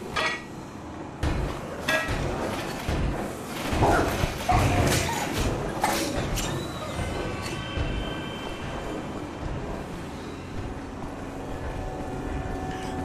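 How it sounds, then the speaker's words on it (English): Video game dogs bark and yip in a set inside a prison level, mixed with clanks and impact hits, loud at first and then thinning into quieter ambience with a sustained tone. "Oh, there's a dog up here."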